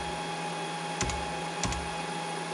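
A value typed on a computer keyboard during calibration of a 6040 China CNC machine running Mach3: a couple of distinct key clicks stand out above a steady electrical hum.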